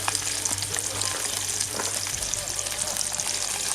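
Whitebait fish frying in a little olive oil, stirred around the pan; a loud, continuous close-up sizzle with crackling spatters and occasional stirring clatter throughout.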